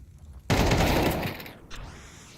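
Rapid automatic gunfire in a Counter-Strike match at a professional ESL Pro League event, a sharp loud burst of shots rattling off quickly, then a brief quieter pause and a softer closing noise.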